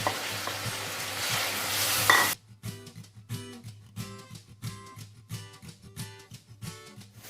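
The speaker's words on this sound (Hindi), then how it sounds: "कढ़ाई में एक कप कुकिंग ऑयल डालेंगे। अब हम इसमें ज़ीरा डाल देंगे। साथ ही प्याज डाल देंगे।" Cumin and onions hit a cup of hot cooking oil in a wok with a loud, steady sizzle. The frying then gives way to quieter, rhythmic stirring scrapes of a spoon against the metal pan.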